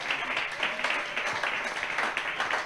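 A church congregation at a prayer and teaching gathering applauds for the Lord, a dense, sustained round of clapping with fairly even rhythm, filling the space with no speech over it.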